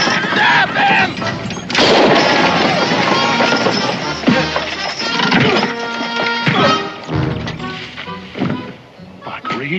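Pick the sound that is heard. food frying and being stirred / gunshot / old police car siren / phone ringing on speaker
gunshot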